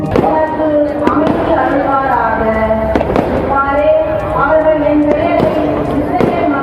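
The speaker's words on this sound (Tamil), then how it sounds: "மேலும் புதிய ஆண்டை வரவேற்கும் விதமாக வான வேடிக்கைகள் நிகழ்த்தப்பட்டன." New Year fireworks burst in a loud, rapid series of booms and crackles at a celebration welcoming 2024, with a crowd's voices mixed in among the explosions.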